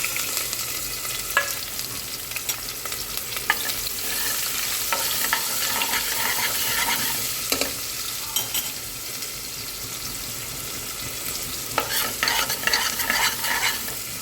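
Curry leaves, chopped onion and green chillies sizzle in hot oil for a Gujarati chola curry, with steady close frying crackle and occasional stirring clinks throughout.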